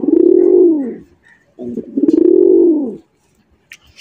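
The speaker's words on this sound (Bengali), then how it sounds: "কবুতরের ডাক শুনতাম বাক বাকুম" Pigeons coo close and loud in two long, rolling calls separated by a short pause, with a faint flutter or click at the end.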